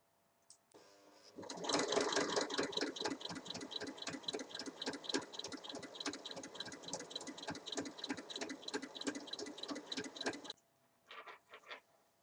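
A sewing machine stitches a French seam on a small fabric purse in a long, steady run of rapid, even mechanical clatter close by, then stops and gives a few short bursts of stitching near the end.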